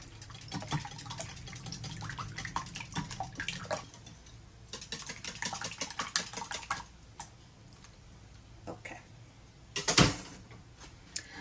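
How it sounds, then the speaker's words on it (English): Eggs and cinnamon are whisked in a bowl for a French toast casserole, making quick rhythmic clicking taps of the whisk against the bowl in close, uneven bursts, with a sharper clatter near the end. "Whisk this until it get nice and smooth."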